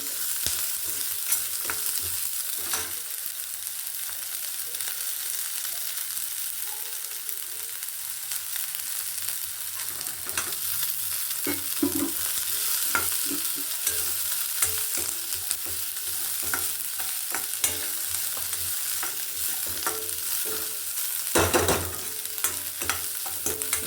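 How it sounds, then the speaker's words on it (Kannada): Onion and green chillies fry in a pan with a continuous crackling sizzle, punctuated by frequent scraping and clanking as a spoon stirs them. "ಚೆನ್ನಾಗಿ ಫ್ರೈ ಆಗಲಿ ಹಸಿಮೆಣಸಿನ್ಕಾಯಿ ಈರುಳ್ಳಿ"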